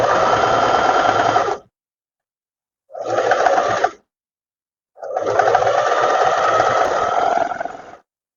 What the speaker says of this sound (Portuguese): vou passar uma costura rente aqui à cintura, só para prender mesmo todos os tecidos no lugar